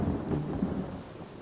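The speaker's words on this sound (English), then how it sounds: "Okay, it's raining." Rain falling with rumbling thunder in the video game Divinity: Original Sin, a steady dense wash of rainfall with low rolling thunder underneath, moderately loud and continuous with no talking.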